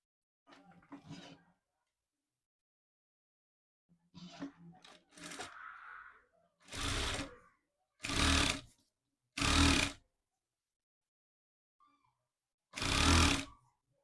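A sewing machine stitches piping onto cloth in several loud, short whirring bursts, each a second or so long, with softer handling and rustling of fabric before them.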